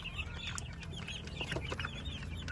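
Two-month-old chicks cluck and peep busily up close, with rapid overlapping high chirps over a low steady hum.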